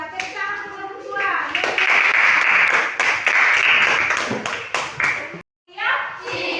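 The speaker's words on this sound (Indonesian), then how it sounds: "Tepuk tangan untuk nomor 2" A classroom group claps for a presenting team, loud, close hand-clapping with children's voices mixed in, cutting off abruptly near the end before resuming briefly.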